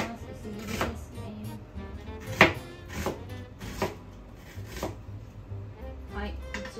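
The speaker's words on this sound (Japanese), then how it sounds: "玉ねぎを薄くスライスして切っていきます。" Knife slicing an onion thinly on a cutting board, a few soft sharp cuts scattered among a moderate kitchen background, one louder clean stroke standing out.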